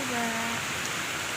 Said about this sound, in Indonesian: Ini posisinya lagi hujan ya.